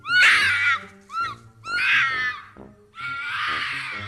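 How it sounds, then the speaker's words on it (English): A fox screaming in the woods: shrill, wavering, woman-like shrieks in four drawn-out bursts with short gaps, loud and close, with no other sounds. "that's just the sound a fox makes"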